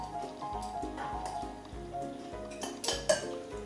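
Fairy cake batter being mixed by hand in a bowl, a utensil clinking and scraping against the sides in a steady repeated rhythm, close and moderately loud.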